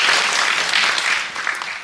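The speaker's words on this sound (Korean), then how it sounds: "최재형 위원장님께 다시 한번 큰 박수 부탁드립니다" An audience at a forum on disability residential facility reform claps loudly, dense and close, a brief burst of applause that holds steady throughout.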